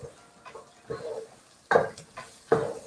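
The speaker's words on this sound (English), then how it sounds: "So start stirring it real quick." A spoon stirs chicken curry with a bay leaf in a pot, making soft scraping and sloshing strokes in uneven bursts, with three louder scrapes standing out near and clear.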